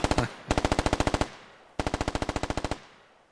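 Automatic gunfire in the military shooter game Squad rattles out in two loud, rapid bursts of about a dozen rounds each, separated by a short pause, with no talk.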